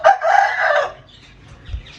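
A Shamo rooster crows close and loud in one short call that trails off into quiet, followed by a faint low cluck, with no talking.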